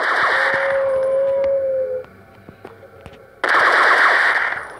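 Loud machine-gun bursts rattle in the video game Portal of Doom, two sustained volleys separated by a short quieter gap with a few isolated shots and a brief whine.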